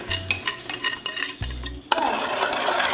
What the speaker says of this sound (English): we'll continue stirring all the time. On medium to low heat.